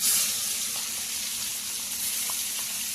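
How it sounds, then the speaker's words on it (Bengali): Fish frying in a pan gives a steady, moderate sizzle with faint occasional pops and no voices. "মাছ কটা ভেজে নিই, তারপরে কচুর তরকারি রান্না করবো"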